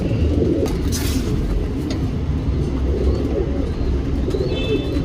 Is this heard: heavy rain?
no